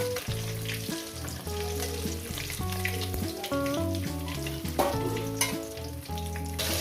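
Pieces of rui fish fry in hot oil with a steady, close sizzle, partly covered by background music playing throughout.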